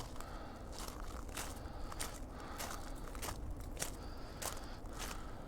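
Footsteps crunching over small rocks in the video game Yeli Orog, a regular series of close, crisp gravelly steps at walking pace, heard alone.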